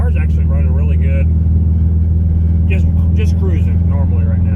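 A turbocharged Acura TSX engine runs steadily while cruising, a loud continuous low drone with road rumble, with someone talking over it throughout.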